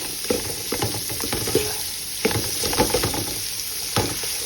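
Carrots sizzle and fry in a pan for egg and vegetable fried rice, with steady frying hiss broken by repeated scraping stirs of the spoon, close and moderately loud.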